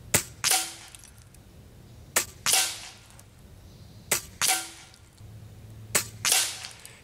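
An Air Venturi Avenger PCP air rifle fires four sharp shots at roughly two-second intervals, each crack followed closely by a second impact-like report, close and loud.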